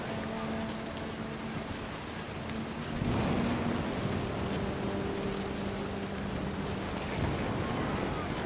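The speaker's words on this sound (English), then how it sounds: "Thunder sounded much too close and full of angry power." Heavy rain pours steadily in a stormy night scene from the game What Remains of Edith Finch, with a low distant thunder rumble rolling in partway through, continuous and moderately loud.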